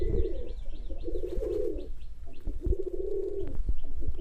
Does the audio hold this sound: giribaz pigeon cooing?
yes